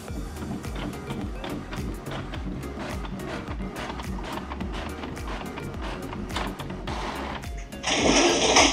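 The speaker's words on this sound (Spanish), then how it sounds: "Una vez acá le damos imprimir una página de prueba." An Epson L220 inkjet printer prints a test page with a long run of rapid, rhythmic mechanical clicking and whirring as the head shuttles back and forth, then a louder rushing burst near the end.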